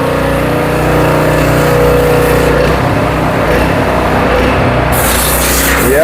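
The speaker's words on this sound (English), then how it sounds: "Yeah, you can see he's spraying it out real good." A pressure stream of water hisses loudly and continuously while cleaning out a concrete mixer drum, with a low engine hum running beneath the spray.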